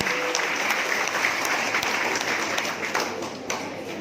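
A congregation claps at a Christmas church service in Hilisimaetanö, producing dense, even applause that stays loud and steady for about four seconds before easing slightly.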